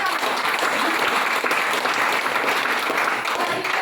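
Steady, loud applause from a crowd, continuous clapping throughout with no pauses.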